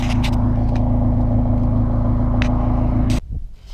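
A close, loud, deep exhaust rumble from a Toyota AE86 drones steadily for a few seconds, then cuts off abruptly, leaving a brief sputter.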